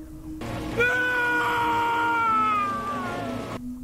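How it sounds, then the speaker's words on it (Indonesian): A man screaming hysterically over his dead son in a horror film, one long wavering high-pitched wail that rises suddenly, holds loud for about three seconds, then cuts off. "Saleh berteriak histeris mengetahui anaknya telah mati."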